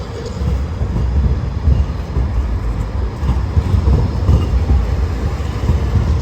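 A city tram passes on a street in Zurich, a low rumbling roll with rattles and creaks that swells and stays close throughout, with no talk over it.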